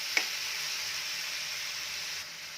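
Tomato chutney ingredients fry lightly in a pan with a soft, steady sizzle close by, one brief tap early on and a slight drop in level near the end.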